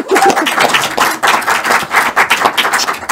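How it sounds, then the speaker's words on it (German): An audience in a cinema at a live show bursts into applause, dense close clapping in irregular bursts that rise and dip across a few seconds. "bitte Applaus."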